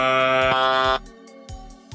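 Friday Night Funkin' chromatic scale sample with preset effects: a bright, buzzy synthesized voice-like tone that holds for about a second, followed by short clipped blips. It sounds processed and close.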